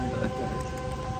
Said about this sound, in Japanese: 雨がめちゃくちゃ強くなってきました